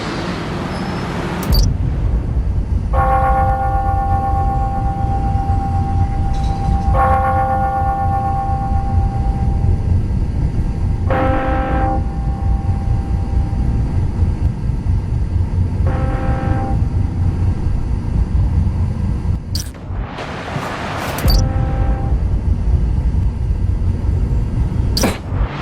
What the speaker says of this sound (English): Ringing on the hour.